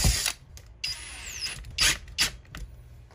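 A power drill bites into a metal bracket while a Toshiba RAC-WK0612 window air conditioner is installed, in several short bursts with a whining pitch shift, separated by brief pauses and handling clicks.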